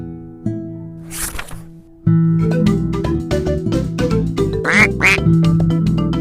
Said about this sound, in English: Duck. Duck has an orange beak.